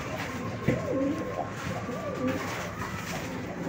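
A racing pigeon arriving at its loft during a pooling race coos in soft, rolling phrases, close by, with some faint background noise.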